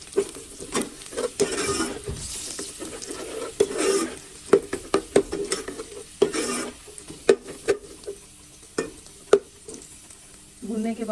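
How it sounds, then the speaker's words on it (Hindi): Dried red chillies frying in a pot for village-style mustard greens saag, with a steady sizzle under repeated stirring scrapes and clinks of a spoon against the metal, close and fairly loud. "इसको हमने थोड़ा सा भूनना है।"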